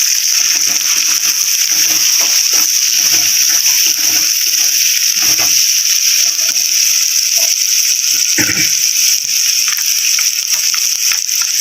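Chicken with chili stir-fries in a pan, a loud steady hiss of frying with scattered scraping and clattering of the utensil against the pan throughout.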